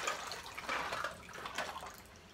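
Water drains from a plastic tub used for disinfecting toys, a soft, continuous trickle and gurgle with small splashy pulses, faint and close with no talking.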